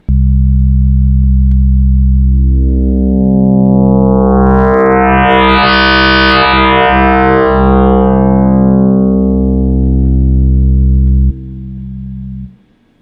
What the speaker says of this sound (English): if I put this back to a sine wave and put oscillator 1 as a saw wave, that's also going to be quite different